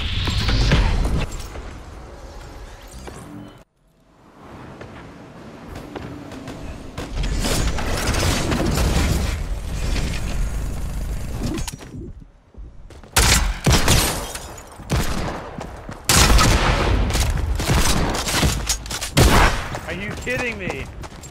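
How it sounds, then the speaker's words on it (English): Hand cannon gunfire from Fortnite gameplay, with bursts of loud, sharp shots and booming impacts scattered across the stretch, some in rapid clusters, separated by brief lulls. "They've really nerfed this freaking hand cannon."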